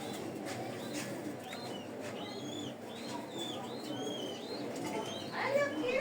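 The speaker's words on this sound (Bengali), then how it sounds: "একজোড়া গিজেল কবুতর দেখেন" Giesel pigeons at a pigeon seller's place give soft coos and short chirpy calls with occasional wing flutters, heard under a steady background murmur and someone talking.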